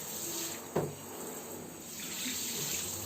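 Tap water runs steadily while bathtubs are washed, a continuous close hiss with one brief knock partway through and no voices.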